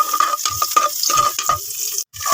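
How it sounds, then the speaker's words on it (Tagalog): Garlic sautés in a hot pan for a Filipino stir-fried rice noodle and vegetable dish, giving a steady close sizzle broken by a few scrapes and stirring knocks. "Una, magigisa na tayo ng ahos."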